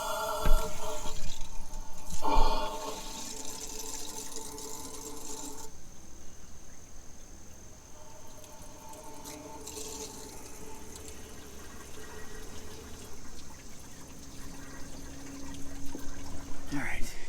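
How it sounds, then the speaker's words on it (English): A steady trickle of water pours into the radiator of a 1988 IH diesel, with a brief louder gush early on and a constant background hiss throughout. "just start putting water into it"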